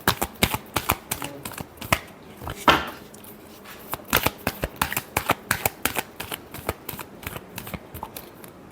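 Tarot deck being shuffled by hand, a series of sharp papery riffles and slaps in irregular bursts, close and clear, with no talk over it.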